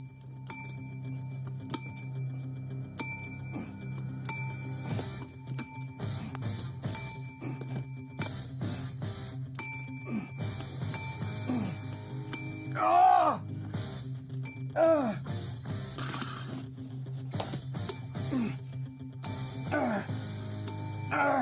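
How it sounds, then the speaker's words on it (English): A handheld bell rung a few times, bright metallic dings standing out midway through a loose stretch of background noise, with faint talk and movement around it. "But I like this bell"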